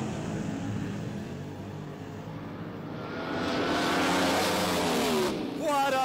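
Nitro funny cars run at the 1971 NHRA Winternationals, engines building from a distant drone into a loud roaring pass that swells in the second half and stays strong to the end, with crowd and announcer noise mixed underneath.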